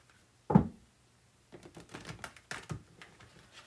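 A sharp tarot card tap is followed by a short run of soft, quick riffling clicks as the tarot cards are shuffled up close.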